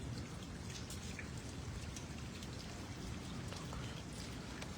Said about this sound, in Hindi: बिलासपुर में कड़ाके की बारिश हो रही है, बिजली चमक रही है, बादल गरज रहे हैं